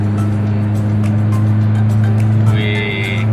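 A 2009 Daihatsu Xenia with Blackcore tuning cruises slowly in fifth gear, its engine a steady, loud low drone throughout, with a brief faint whine near the end.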